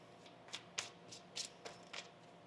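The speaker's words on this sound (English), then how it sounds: "One more shuffle." Tarot cards riffle-shuffled in several quick bursts, close and crisp, with short pauses between each riffle.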